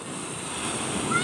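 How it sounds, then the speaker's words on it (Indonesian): Big ocean waves break on Pasir Jambak beach in Padang in the late afternoon, making a continuous close wash of surf. Wind buffets the microphone, and a voice may be faintly present. "Awas, awas ombaknya besar nak."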